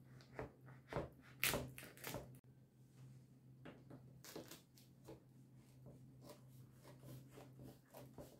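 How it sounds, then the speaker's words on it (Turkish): A knife cuts through a tray of layered börek pastry into rectangles: close, soft crunching and scraping strokes come in short bursts, louder early on, then lighter, quieter slicing sounds follow. "Dikdörtgen şekilde böreğimizi dilimliyoruz."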